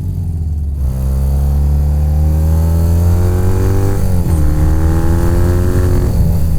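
A custom BMW R45 Airhead motorcycle engine rumbles loudly close by, its revs climbing steadily, dropping briefly, then rising again, with a low throaty drone throughout.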